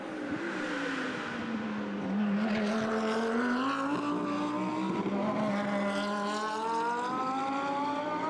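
GT race cars in a GT Masters race at the Red Bull Ring drone past with sustained engine notes that rise in pitch as they accelerate, a loud, close roar from several cars overlapping.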